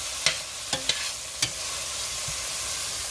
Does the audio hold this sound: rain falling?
no